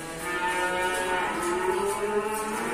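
A male Pegon bull at a cattle dealer's gives a single sustained, low moo lasting a few seconds at moderate distance.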